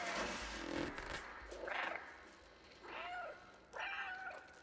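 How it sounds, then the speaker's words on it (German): A cat meows several times in the Stray video game, with three distinct rising-falling calls spaced about a second apart over a steady ambient background, fairly close and clear. "Wir können ja miauen."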